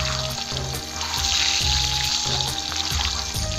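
Boiled eggs fry lightly in oil, a continuous soft sizzle running the whole time beneath a pulsing low music track.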